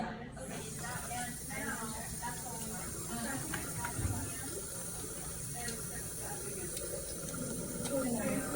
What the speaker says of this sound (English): I will now wash my hands.